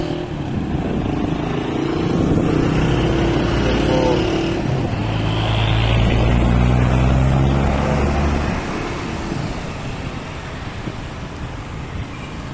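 A bus rumbles past with other road traffic, its heavy engine drone swelling loud and close near the middle before fading, amid the steady hum of passing vehicles.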